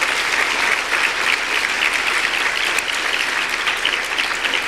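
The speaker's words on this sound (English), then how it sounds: "Big hand of applause." Large audience at a women's forum dinner giving a big round of applause, dense sustained clapping from hundreds of people, loud and even for the whole stretch.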